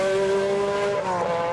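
An MG Metro 6R4 rally car in Will Gollop rallycross colours, its 3-litre mid-engined V6 revving hard at a hillclimb festival, a loud close harmonic engine howl that holds steady then shifts pitch as it changes gear.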